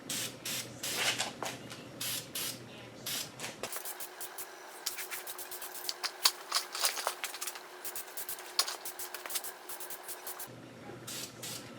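Red VHT caliper paint is sprayed onto an Audi Q5 front brake caliper in a quick series of short, close hissing bursts from an aerosol can, interrupted by faint clicks and handling noise, with no talking.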